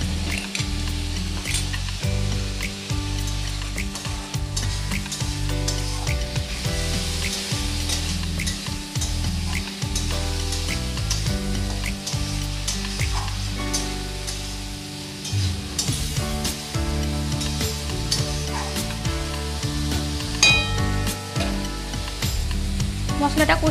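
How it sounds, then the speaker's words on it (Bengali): Potatoes fry in spice paste in a pan for a Bengali fish roe kofta curry, giving a loud, continuous sizzle with repeated scraping and stirring strokes of a spatula. "এবার আমি আলু দিয়ে আবারও একটু ভালো করে কষে নেব।"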